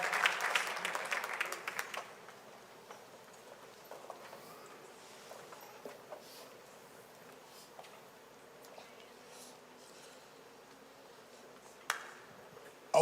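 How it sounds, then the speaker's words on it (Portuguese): A church congregation claps during a worship service: a loud burst of applause in the first two seconds that quickly dies away, leaving a quiet room with scattered faint noises and a sharp knock at the very end. "Você pode aplaudir ao Senhor."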